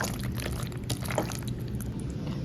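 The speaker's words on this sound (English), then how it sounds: "I'm gonna pour all my cheese on top of the pasta and butter situation" A cheese mixture pours over pasta and butter in a home kitchen, a soft, continuous wet slosh with faint drips and small plops, close and fairly quiet, no one talking.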